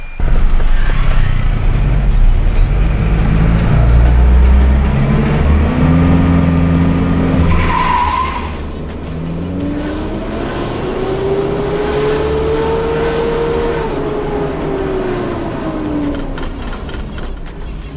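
A Mitsubishi Triton double cab pickup with a freshly remapped ECU drives close by, its engine loud and steady, then easing back and climbing in pitch again as it accelerates through a long pull, with no talking.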